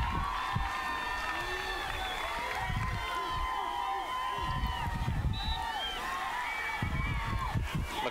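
A soccer crowd cheers during a men's college penalty shootout between Colgate and American, a continuous roar with whistles and shouts under a commentator's voice.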